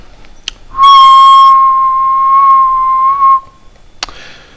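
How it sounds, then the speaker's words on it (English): A person whistles into a microphone, holding a single loud, steady pure tone for about two and a half seconds, framed by faint clicks just before and after. "Firstly, I'll switch it on, and then I will whistle."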